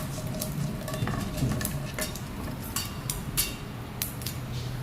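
Khaman batter is stirred in a pot with a utensil, giving soft irregular scraping and light clinks against the metal over a low steady background hiss, fairly faint and close.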